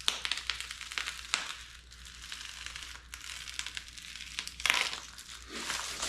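A very sharp Havalon knife with a replaceable surgical blade slices into foam hive top insulation, giving repeated crinkling, crunching cuts with a louder tearing stroke near the end, close and alone.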